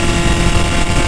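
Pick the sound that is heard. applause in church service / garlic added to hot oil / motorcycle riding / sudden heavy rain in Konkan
motorcycle riding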